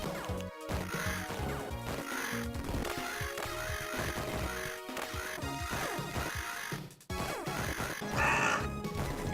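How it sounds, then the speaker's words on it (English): Crow-like caws ring out as enemies are hit in the SNES platformer Wolfchild, repeated short squawks layered over busy, loud game music and crashing effects. "Why on earth does every enemy sound like a crow when you hit them?"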